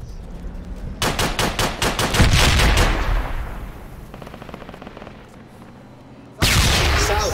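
Bursts of machine gun fire in the tactical shooter game Project Reality, several rapid rattling volleys in the first few seconds, then quieter distant shots, then a sudden loud burst at the end.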